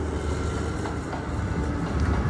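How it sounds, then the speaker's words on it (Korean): A train rolling past at Haputale in Sri Lanka's misty hill country, a steady broad rumble that holds evenly throughout with no voices over it. "때마침 생각지도 않았던 기차가 지나갑니다"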